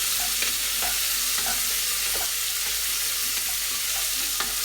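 Chopped onions fry in hot oil in a home kitchen pan, the start of an Indian goat curry: a steady, fairly loud sizzle throughout, with soft scraping stirs recurring roughly every second.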